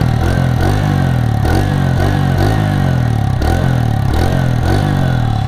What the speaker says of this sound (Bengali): এক্সস্ট সাউন্ডটা শোনাই